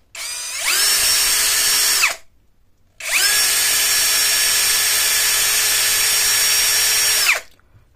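A Zhipu 16V cordless drill runs at its top speed setting on a fully charged battery, spinning up for about a second and a half, stopping, then whining steadily for over four seconds before winding down; loud, close, with no talk.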